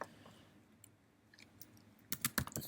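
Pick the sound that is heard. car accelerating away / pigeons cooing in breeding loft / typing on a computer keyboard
typing on a computer keyboard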